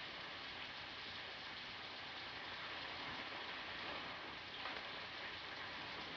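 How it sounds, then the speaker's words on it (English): Steady rain falling on a surface, a constant hiss of drops with no breaks, soft and even throughout. "It's raining."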